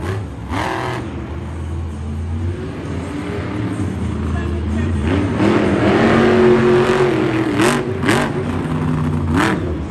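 Monster truck engine at a Monster Jam freestyle run in St. Louis, a loud droning roar that surges and revs with pitch swings, heard over arena crowd noise.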